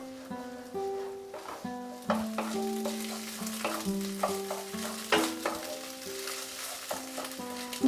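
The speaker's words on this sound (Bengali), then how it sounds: "মিডিয়াম আঁচে ডিমটাকে আমরা ফ্রাই করে নেব।" An egg fries in oil in a kadai over medium heat, a soft sizzle with scattered clicks of a utensil, heard beneath a louder melodic music track.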